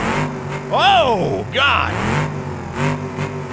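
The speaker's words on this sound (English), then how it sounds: "no exhaust on this thing, so it is incredibly loud." Car engine with no exhaust fitted in the BeamNG Drive driving game revs loudly twice in quick sweeping rises and falls, heard up close from a near camera, with a brief startled exclamation over it and a rough idle between.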